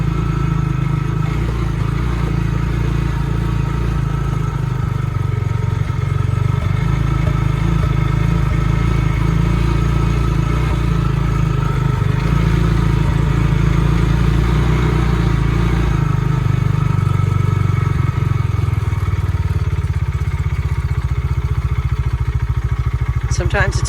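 Tractor Supply Bighorn Explorer engine running with a hesitation and a slight sputter: a loud, steady low engine drone that wavers unevenly, heard close for about twenty seconds with someone talking over it.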